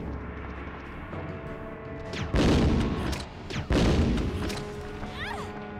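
Two heavy gunshot blasts in the video game Resident Evil 2, loud and close, about a second and a half apart over a low ambient game soundscape.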